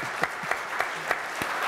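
A short burst of audience applause, a steady wash of clapping with a few sharper individual claps standing out, fairly close and without talk.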